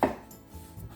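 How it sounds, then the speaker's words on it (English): A single crisp knife chop through the top of an onion on a cutting board, close and sharp at the start, followed by faint board and kitchen sounds. "Onion, cut the top"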